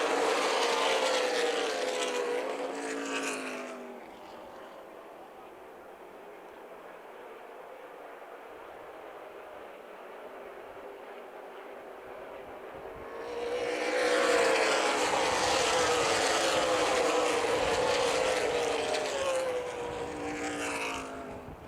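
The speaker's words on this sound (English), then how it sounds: "The field picks up speed. Here we go, back to green" ARCA race cars accelerating on a restart at Toledo Speedway, a loud roaring pack of engines that fades to a distant drone, then swells back loud as the field passes close again.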